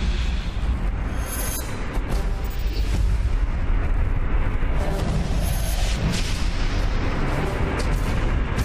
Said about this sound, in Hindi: Barack 8 missile system